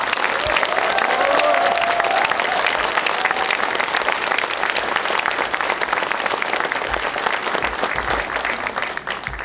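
A large crowd at a political party rally applauds loudly and steadily, the clapping continuing without a break from start to finish.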